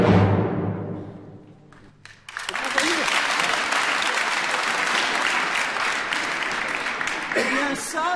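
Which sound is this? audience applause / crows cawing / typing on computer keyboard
audience applause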